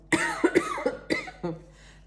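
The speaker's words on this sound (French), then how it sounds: "je tousse encore" A woman with a cold coughs several times in sharp, close bursts, a few hoarse coughs spaced unevenly with short pauses between them in an otherwise quiet room.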